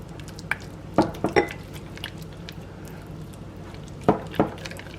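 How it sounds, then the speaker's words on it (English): Peanut butter and warmed cream cheese being creamed together in a bowl, with a few distinct utensil knocks and scrapes against the dish over a quiet background, clustered early and again near the end. "So we want to mix this in together. We've got them warmed up. Now let's get them creamed in together."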